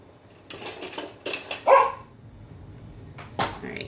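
A dog named Kane barks in the back of a home kitchen during pumpkin pie baking, a few short mid-distance barks with a sharper yelp near the middle, over faint clatter and room noise.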